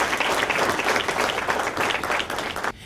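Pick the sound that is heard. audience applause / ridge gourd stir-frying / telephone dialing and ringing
audience applause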